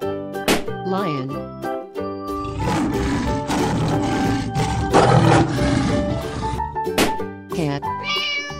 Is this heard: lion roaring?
yes